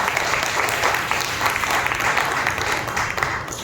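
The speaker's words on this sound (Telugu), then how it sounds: "బిగ్గరగా చప్పట్లు కొట్టి ప్రభువును మహిమపరచండి" A church congregation at Sunday worship claps loudly and continuously, a dense wash of many hands sustained for several seconds without pause.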